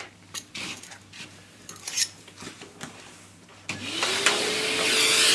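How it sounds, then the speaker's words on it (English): A Hoover vacuum cleaner used to suck dents out of speaker cones: faint clicks and small knocks at first, then the motor starts with a rising whine and runs steadily, loud and close. "now we're going to try our final method, which is a Hoover"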